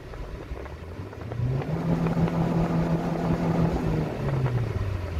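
Mitsubishi Outlander 2.0 turbo (4G63T) with manual gearbox, engine revved up and held steady at about 5000 rpm by launch control, a loud sustained drone that rises, holds evenly and then drops slightly near the end.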